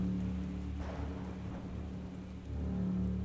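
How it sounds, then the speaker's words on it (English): A fierce storm with rain pouring down and low thunder rumbling, a continuous dense wash of rainfall with a swell of thunder midway, no voices. "a fierce storm blew through the community"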